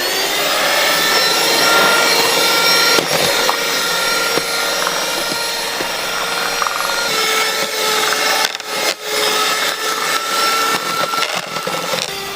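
An electric beater whirs steadily while flour is mixed into a giant plum cake batter, a loud continuous motor drone with slight shifts in tone as it works through the mix.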